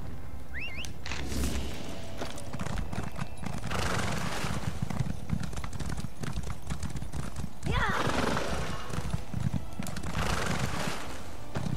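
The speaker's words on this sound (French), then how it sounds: "Ok, on va prendre le cheval." Hooves clip-clop in a quick repeating rhythm as a horse gallops in The Elder Scrolls Online, with a couple of whinnies, one near the start and one midway, over a constant game soundscape.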